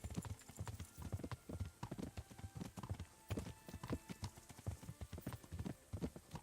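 A horse's hooves clip-clop steadily along a road in the Kingdom Come: Deliverance video game, a close, rhythmic trot of distinct hoof strikes with no talking.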